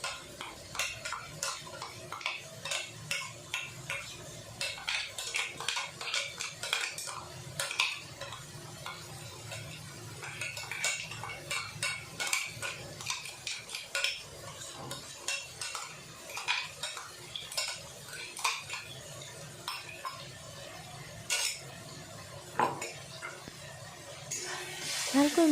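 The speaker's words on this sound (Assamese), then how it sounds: "ভালকৈ মিলাই দিছোঁ।" A palak paneer mixture with ground cashew, ginger and garlic is stirred in a pan. A metal spoon scrapes and clinks repeatedly against the pan under a faint sizzle, and there is some quiet background talk.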